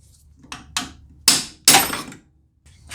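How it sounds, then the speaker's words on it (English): A hammer strikes a pry bar set on a wrench during power steering pump and alternator work on a 2009-14 Nissan Maxima, giving several sharp metallic whacks, two light taps then two heavy ringing blows, close and loud. "So I'm going to put a pry bar on this wrench and whack it with a hammer."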